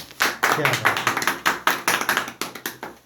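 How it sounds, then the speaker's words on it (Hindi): A small audience claps: a string of sharp, fairly close hand claps in an uneven rhythm that lasts about three seconds. "तो एक ताली बजा दो"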